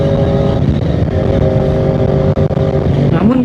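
A Yamaha R1 motorcycle engine, an older model from the 14B series, runs steadily and loudly close by, with a continuous rumble and a brief dip before a rising rev near the end.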